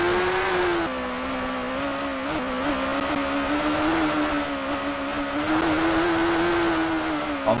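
A Suzuki superbike engine in the 2005 PS2 game TT Superbikes revs hard and steadily, its buzzing tone climbing and dipping through gear changes as the bike accelerates, loud and alone.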